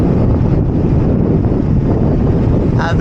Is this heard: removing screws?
no